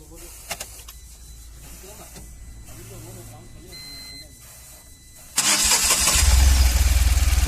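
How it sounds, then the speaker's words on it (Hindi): A Tata Ace petrol mini truck engine is started with the self starter, a brief crank catching at once into a loud, rough idle that follows a quieter stretch with someone talking. "तो देखिए गाइस, स्टार्ट हो गया है गाड़ी,"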